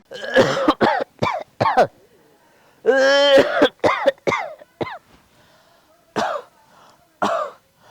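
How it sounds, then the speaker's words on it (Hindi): A person speaks in Awadhi in short bursts, then gives a harsh rasping dry cough near the mic before resuming talk. "पतन का सूखी खांसी बहुत आवत"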